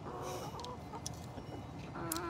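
Backyard laying hens clucking, a few short, moderately faint calls alone against low background noise.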